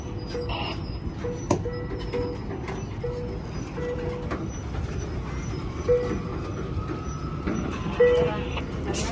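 An Amtrak San Joaquin train, No. 714 bound for Bakersfield, stands at Emeryville Station in Emeryville, California. A steady low rumble fills the clip, with faint chimes and beeps over it and distant station noise.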